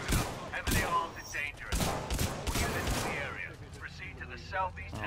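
Automated turrets in Titanfall 2 fire in a steady stream of shots over a dense, noisy background of gameplay sound, with overlapping bursts throughout and voices mixed in.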